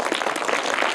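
A brief burst of audience clapping for a child quiz winner, a roughly one-second wash of many hands close to the microphone.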